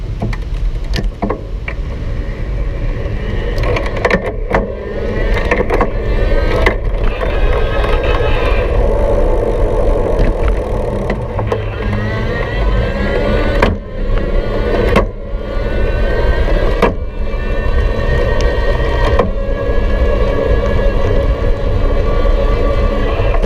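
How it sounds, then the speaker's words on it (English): Raleigh Sprite iE e-bike running in the third pedal-assist level, a steady motor whir with road and chain noise throughout, broken by brief clicks and dips as the gears are shifted several times. "now you can watch the motor up close and see how quickly it responds in pedal assist, and listen when I shift through some of those gears"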